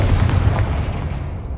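Confringo blasting spell explosion in Hogwarts Legacy: a loud, broad rumbling blast that fills the short moment and then slowly fades, heard alone without talk.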